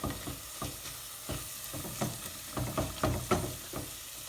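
Chicken curry cooking in a pan, a steady close sizzle with repeated stirring scrapes and no talk.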